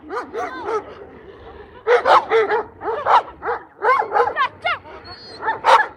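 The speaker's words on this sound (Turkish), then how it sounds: "Şimdi 4-5 köpek de birleşir." Several dogs bark and yip in overlapping bursts near a wolf area, fairly close and loud, with a short lull before a louder flurry of barking.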